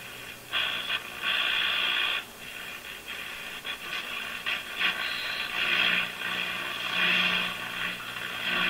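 A Brand and Millen DR-102U tube radio sweeps through hiss and static as it is tuned, with bursts of noise rising and fading and no clear station coming in.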